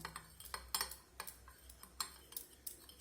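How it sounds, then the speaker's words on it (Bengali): Oil and salt are stirred into a cake batter in a bowl, giving quick, light clinks and taps of a spoon against the container in an uneven rhythm, close and fairly quiet. "এখন তেল আর লবণটাকে আমি এই মিশ্রণে ভালোভাবে মিশিয়ে নেব"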